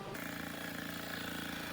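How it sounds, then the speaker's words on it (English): A scroll saw cuts a small wooden piece with a steady, rapid reciprocating buzz that runs loud and continuous from start to finish, with no talking. "this piece is so small I decided to use the scroll saw"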